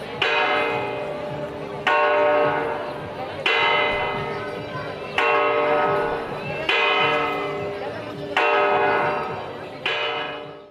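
Bells of the Astorga town hall clock are struck by the maragato figures, with seven loud, ringing strokes at a slow, even pace, each one decaying into the next.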